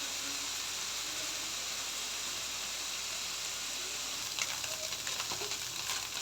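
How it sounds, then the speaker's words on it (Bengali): Molia fish fries in a pan for potato chorchori, a steady close sizzle running throughout with a few brighter crackles and spits near the end. "এই যে দেখেন, একটু ভেজে নিচ্ছি"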